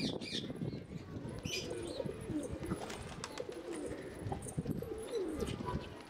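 Pigeons coo in a low, continuous murmur close by while wings flap in brief bursts, with faint chirps and scattered outdoor noise around them.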